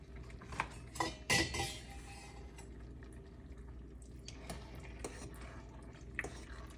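Pre-cooked, thawed shrimp stirred into a pot of crawfish jambalaya, with a few metal clinks of spoon against pot and wet shuffling, loudest near the start, then soft scraping over a low steady background hum.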